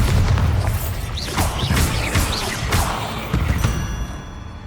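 Bombarda blasting spell exploding in the Hogwarts Legacy video game, a loud series of booming bursts and crashing hits in quick succession over busy, rumbling battle noise.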